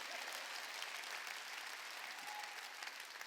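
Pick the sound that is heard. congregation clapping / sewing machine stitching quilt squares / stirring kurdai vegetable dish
congregation clapping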